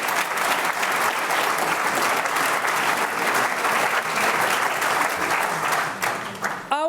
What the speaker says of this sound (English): I think it's worth of applause, please.